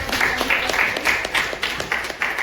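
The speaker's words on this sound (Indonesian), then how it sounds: "Oke, kasih tepuk tangan dulu kelompok." Students in a classroom clap for a group after its presentation, a short burst of quick, fairly close handclaps from a small crowd, steady and fairly loud for a couple of seconds.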